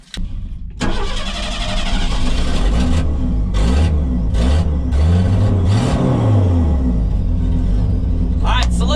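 A Bombardier mini tank's engine starts and runs loudly and close, holding a steady rumbling drone with shifting revs throughout.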